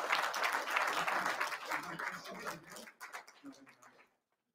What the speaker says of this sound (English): You can all clap all you want.